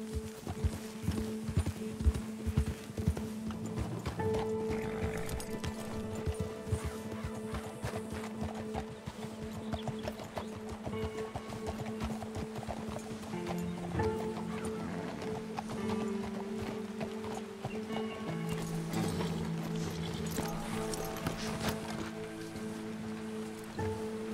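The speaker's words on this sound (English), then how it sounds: "Will you take control of that horse?" Horse hooves clip-clop steadily in the video game Red Dead Redemption 2, an even trotting rhythm running throughout against background game ambience, with faint murmurs here and there.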